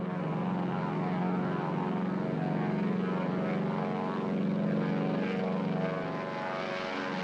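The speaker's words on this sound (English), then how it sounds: "Comfortable roar of a big, heavy-duty piston engine." Steady, heavy drone of a DC-3 airliner's big piston engines and propellers, a deep throbbing roar that holds loud and even throughout with no voices.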